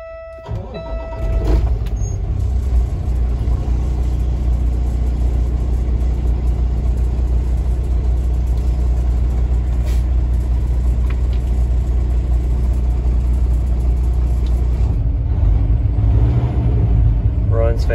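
A 2018 Kenworth W900L truck with an X15 Cummins engine drives along, a steady, loud low rumble from the cab that holds evenly throughout, with faint talk beneath it.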